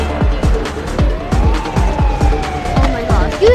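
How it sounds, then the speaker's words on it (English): Police sirens wail continuously in the video game I Am Bird, sounding loud and close with a steady warbling rise, mixed with repeated thumping game impacts and some background talk. "You hear those sirens?"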